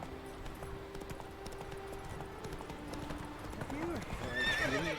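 A horse's hooves clip-clopping at pace in The Witcher 3 video game, a rapid rhythmic patter under a steady tonal game soundtrack, ending in a loud neighing whinny, with someone talking over it.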